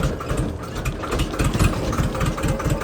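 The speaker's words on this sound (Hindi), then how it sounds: "और अब हमें ट्रैक्टर खड़ा करना है बीच में ताकि इसकी ट्रॉली पे धान छीट सके।" A tractor engine idles in a rice field during paddy sowing, a steady low rumbling chug with a rough pulsing rhythm, close and fairly loud, with no talk.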